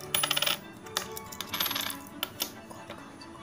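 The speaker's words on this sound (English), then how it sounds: "All these are gold coins." Gold coins tumble out of a small Lego safe in a quick, close series of bright metallic clinks and jingles over about three seconds, with no talking.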